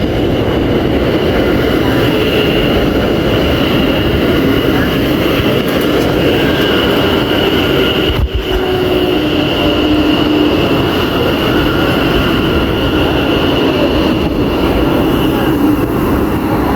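A train rolls into Milton Keynes Central on the West Coast Main Line, likely a London Northwestern service. A steady, loud rumble and hum fills the platform with faint squeals and a brief thud midway, and there is no talk.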